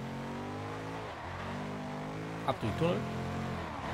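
A Bugatti Veyron engine drones steadily in the racing game Forza Horizon 2, its harmonic tone rising and falling with the throttle under German speech, with a brief crash-like burst near the end.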